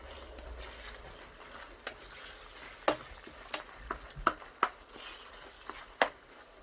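Ground beef fries in a deep skillet with a low sizzle, broken by irregular sharp scrapes and taps as a utensil chops it into smaller pieces.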